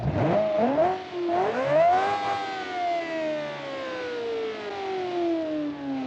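A $9 million car with a faulty exhaust revs hard, its loud whining pitch climbing in two quick bursts, then one long rev that sinks slowly as the engine winds down, close by with no talk.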